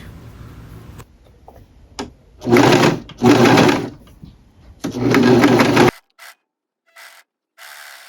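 Husqvarna Viking Huskylock s21 serger set up for coverstitch, sewing fabric in several loud, close bursts of fast mechanical whirring, separated by short quiet gaps and a few brief clicks.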